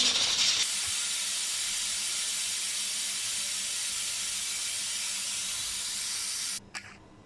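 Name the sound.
steam hissing out of a pressure cooker while releasing pressure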